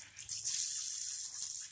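Water splashing onto a potted fig tree's leaves and stems in a planter bag, a steady hissing spray that swells after a brief start and runs on evenly.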